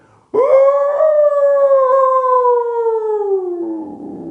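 A man imitates a wolf howl with his voice, one long sustained rising-then-falling wail lasting about four seconds, loud and close, trailing off at the end.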